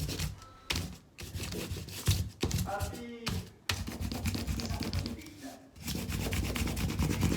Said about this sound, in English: Continue the crayon rubbing until you have the image of your whole city street completed